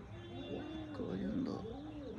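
Pigeons kept for pigeon racing give soft, rolling coos, faint and fairly close, repeating in short swells.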